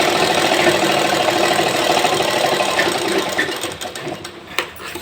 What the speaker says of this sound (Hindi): इसीलिए मैं ये दाब की सिलाई लगा के बता रही हूँ